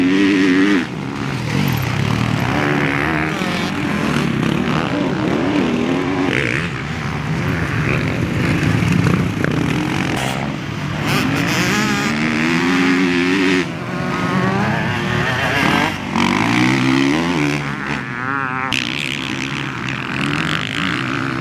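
A Kawasaki KX450 motocross bike is ridden on the vet track at Glen Helen Raceway. Its engine snarls continuously and loudly for the whole stretch, rising and falling in pitch as the rider works the throttle.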